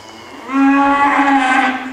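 A cow used for cutting horse training lets out one loud, close moo, a drawn-out low call that swells and holds for over a second, with nothing else audible around it.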